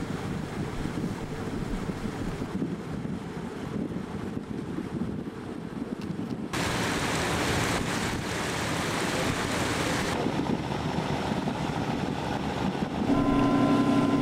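Boat cruising on open water in an archipelago, its steady low rumble blending with wind buffeting and the wash of waves throughout, the noise growing fuller partway through.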